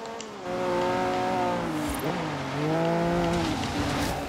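Race car engines in the Forza video game rev and climb in pitch, dip around a corner with a brief tire squeal, then rise again, moderately loud and continuous.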